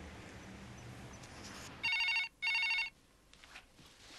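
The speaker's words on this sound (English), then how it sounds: "Julie rang Dominic" A telephone bell rings in two loud, close bursts with a short gap between them, followed by quiet room tone, in a 1991 UK crime reconstruction.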